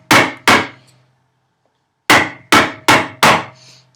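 A mallet drives a chisel into wood to chop housing dados for a workbench: two sharp, close knocks, a pause, then four more in quick rhythm, each ringing briefly.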